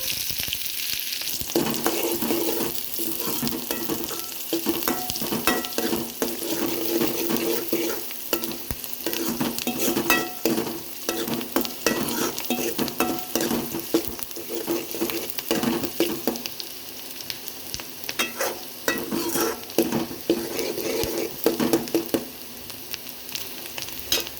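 Chopped onions frying in hot oil with fennel seeds for pattani kuruma, a dense, steady crackling sizzle close up, with frequent scrapes and clatters of a spatula stirring throughout.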